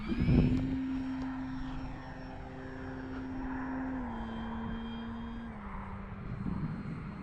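An FMS Pitts 1400mm model airplane's engine whines steadily overhead, its pitch stepping down as it flies past a grass field, with a brief rustle nearby at the start.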